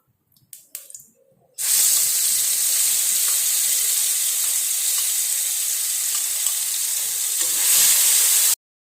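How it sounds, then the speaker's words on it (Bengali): Ground spice paste hitting hot oil in a pan after the tempering, a loud, steady sizzling hiss that bursts in abruptly after a few soft knocks and runs continuously for several seconds before cutting off. "এখন আমি বাটা মশলাটা দিয়ে দিচ্ছি।"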